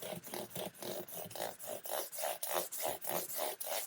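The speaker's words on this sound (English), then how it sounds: "how the sanding changes tone." Rhythmic hand sanding of an SP P90 guitar pickup, quick back-and-forth rasping strokes repeating steadily and close up, the tone shifting as the sanding changes, with no talking.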